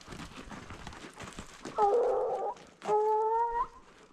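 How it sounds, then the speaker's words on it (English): A rabbit dog gives two drawn-out, baying barks a little way off in desert wilderness, over faint background noise. "That's Jack. Jumping Jack Flash, the rabbit dog."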